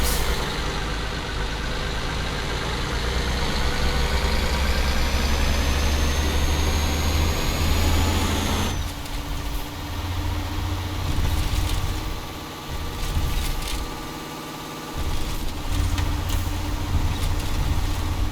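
A Mercedes-Benz MB 1418 truck pulling a forestry bitrem trailer in Euro Truck 2 drives with a loud, steady, low engine drone, the pitch climbing and then dropping sharply as gears shift, with no talk over it.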